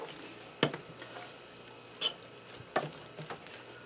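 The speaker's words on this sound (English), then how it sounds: "I'm just going to stir this in here good." A spoon stirs meatballs and gravy in a pressure cooker, giving a few soft wet squelches and clinks at intervals over a faint quiet background.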